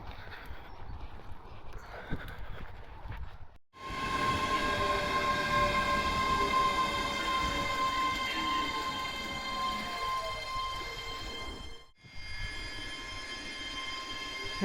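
A train passes on a railway near a station, its sound rising abruptly from quiet into a loud, sustained rumble with ringing wheel-squeal tones, then cutting off sharply and returning more faintly; no talk.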